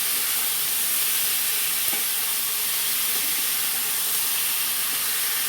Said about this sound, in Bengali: মাংসটাকে একটু নাড়াচাড়া করে নেবো